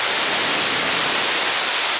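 Steady, full-band white noise synthesized in Ableton Live 11, a dense even hiss running loud and unbroken from start to finish with no voice over it.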